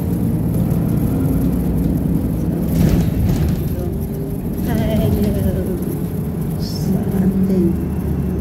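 Steady freeway traffic rumbles past in a continuous, loud low drone of engines and tires around San Mateo, California, with occasional louder passing vehicles while people talk over it.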